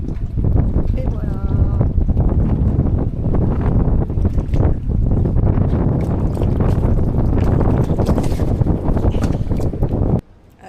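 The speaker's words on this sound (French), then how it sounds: "Il y a du vent encore" Steady wind buffets the microphone with a loud, rough rumble throughout, cutting out abruptly near the end.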